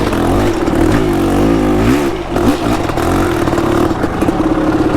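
A Kawasaki KX500 dirt bike engine revs hard and loud up close, its pitch climbing and dipping as the throttle opens and eases, with a brief drop midway.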